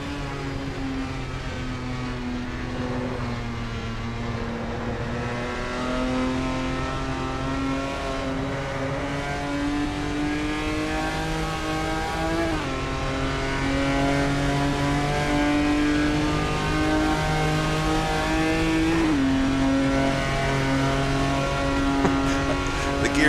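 Jaguar E-type historic sports car racing in Assetto Corsa: a steady, droning engine note that rises and falls with throttle and shifts, continuous and close throughout, with some talk over it.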